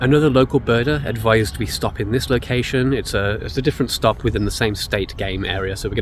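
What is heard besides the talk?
None of the usual background noises is heard.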